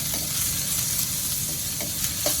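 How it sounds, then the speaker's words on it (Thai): Vegetables stir-frying in hot oil for a sweet and sour dish, a dense continuous sizzle with occasional scraping stirs, close and loud, no voices. "เราใช้วิธีผัดให้น้ำมันให้ผักมันสุกมันหอม"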